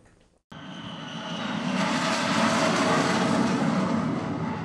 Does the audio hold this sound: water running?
no